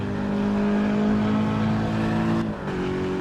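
Race car in the sim game Assetto Corsa EVO, a steady loud engine drone at high revs with a brief dip as the car shifts or lifts, then continues.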